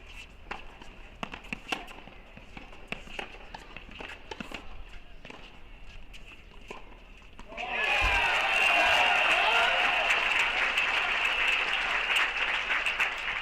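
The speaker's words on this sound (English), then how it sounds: "Pretty good crowd, you can hear it." Spectators at an NCAA Division I tennis championship match burst into loud, sustained applause and cheering after a stretch of quieter court sounds and scattered knocks, with voices heard amid the noise.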